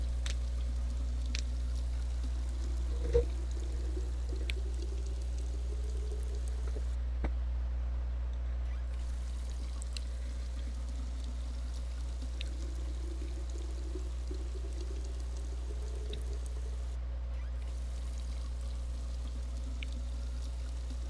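Water pouring steadily while plants are watered in Drug Dealer Simulator, a soft continuous stream over a constant low hum, with a few faint clicks and no talking.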